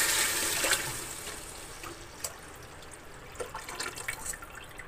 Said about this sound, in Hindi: अब मैं इसमें डालूंगी दूध, जो मैंने पहले से गर्म करके रखे हूँ।